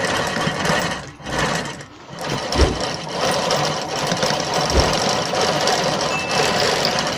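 A sewing machine stitches a fold while an invisible zip goes into a blouse, running at a continuous, busy mechanical clatter up close with brief pauses in speed.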